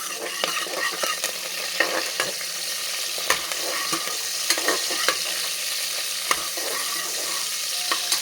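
Finely chopped onion sizzles and crackles steadily in hot oil for tempering, with occasional clinks and stirring scrapes close by.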